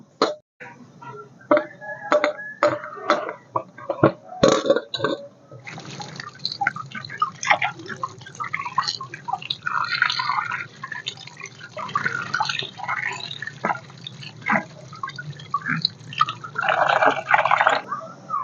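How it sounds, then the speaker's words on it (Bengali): A big fish head rinsed by hand under running water, with close splashing, trickling and dripping, short bursts of handling first, then steadier pouring and sloshing that swells toward the end. "এবার এই মাছের মাথাটা আমি সুন্দর করে ধুয়ে নেব"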